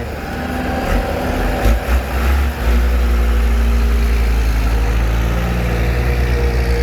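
A backhoe excavator filling earth for a four-lane road in Buriram drones with a heavy, loud engine, rising briefly then holding a steady low rumble with no voices.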